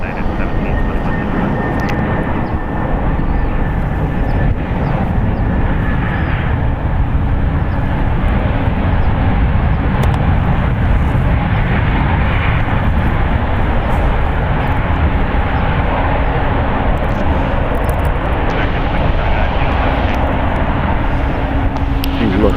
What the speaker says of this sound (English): we're celebrating with a little bit of a parallel landing there.